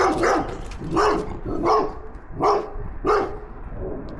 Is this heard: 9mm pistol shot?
no